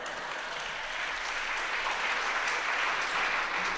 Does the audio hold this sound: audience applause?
yes